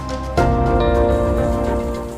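Rain falls steadily in the Valmiki Nagar area of Bihar, a dense continuous hiss that swells suddenly and then holds loud and close for the rest of the moment, with no voices.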